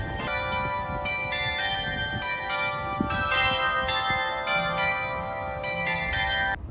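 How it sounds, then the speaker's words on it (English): Church bell ringing on a hidden Caribbean island, repeated metallic strikes with a long ringing hum carrying steadily throughout. "I guess that's a church bell or something."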